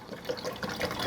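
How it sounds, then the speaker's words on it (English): Apple cider vinegar poured into a nearly full jug gives a short, close liquid trickle and splash, with no talking. "I'm actually just going to top it off with my apple cider vinegar"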